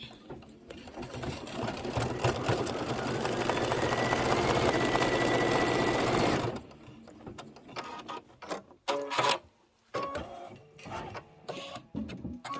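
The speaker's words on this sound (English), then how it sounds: "Let's stitch it up. Stitch it and then trim it." A sewing machine stitches a taco-shaped cord organizer in one loud, continuous run of about six seconds, then stops. Lighter handling clicks and rustles follow.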